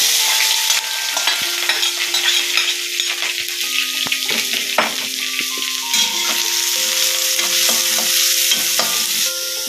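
Sliced onion and green chillies frying in coconut oil, a loud continuous sizzle with clicks of a spoon stirring and scraping the pan, close up with no talking.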